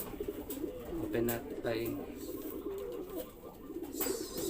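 Taiwan pigeons in a loft give soft, low cooing mixed with rustling as a person talks nearby over steady background noise.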